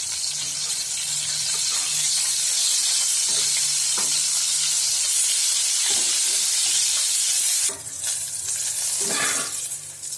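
Eggplant pieces fry lightly in oil in a wok, giving a loud, continuous sizzling hiss close by, with occasional scraping stir strokes and a brief dip in intensity near the end.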